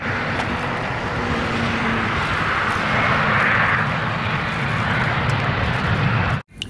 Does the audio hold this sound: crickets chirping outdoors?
no